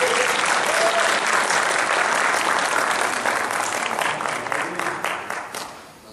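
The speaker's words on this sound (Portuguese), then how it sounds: "Então vou dar uma salva de palmas para ele." A church congregation gives a sustained round of applause, loud and dense clapping from many hands that carries on for several seconds before fading toward the end.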